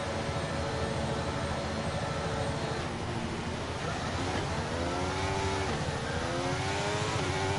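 Formula 1 car engine in the racing game F1 2023 revving at the race start, a loud dense engine roar with rising pitch sweeps as the car accelerates away, surrounded by other cars.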